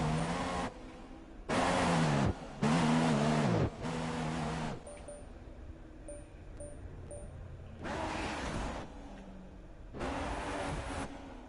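A Toro Rosso Formula 1 car in the racing game F1 2016 sounds off with loud, high-pitched engine bursts that rise and cut out repeatedly, with quieter running noise in between.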